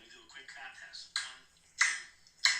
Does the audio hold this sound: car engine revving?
no